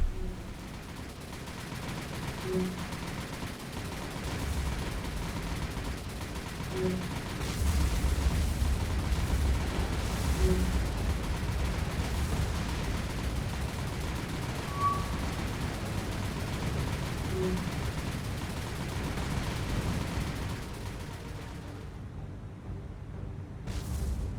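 Warship naval guns fire in the War on the Sea game: a continuous low, rumbling barrage of booms that rolls on without pause before cutting off near the end.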